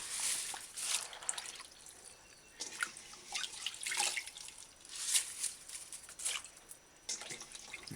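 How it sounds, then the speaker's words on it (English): Water draining and dripping off freshly rinsed neem leaves, irregular splashy trickles coming in bursts, close and fairly quiet. "After that, drain excess water"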